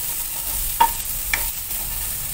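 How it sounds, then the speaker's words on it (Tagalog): Stirring of onions sautéing in a pan, with two quick scraping strokes against a low steady sizzle, close and fairly quiet. "Ayan, halo lang yung sibuyas natin."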